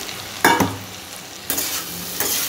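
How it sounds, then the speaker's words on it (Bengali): Fried potatoes and soybean chunks stir-fried in spice masala in a pan: a few loud scraping stirs over a steady sizzle, heard close up with no voices. "এর মধ্যে যে আমি আলু আর সোয়াবিনটা যে ভেজে রেখেছি সেটা এর মধ্যে দিয়ে একটু ভালো করে কষিয়ে নেব।"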